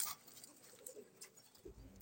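Beji-collection pigeons, one pair at a pigeon market, give soft low coos, quiet and close, over a faint background hiss.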